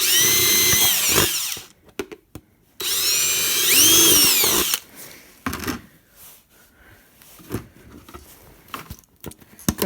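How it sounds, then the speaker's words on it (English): A power drill bores a hole into a homemade bird feeder in two loud, sustained whining runs whose pitch shifts as the bit bites, followed by quieter handling knocks and clatter. "Drill your other hole."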